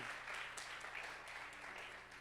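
A church congregation claps together in steady, distant-sounding applause that stays soft and even throughout, with no one speaking over it.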